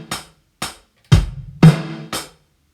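Rock drum beat on a kit with a bass drum struck as a quaver, snare and hi-hat hits spaced evenly and played solo, close and crisp.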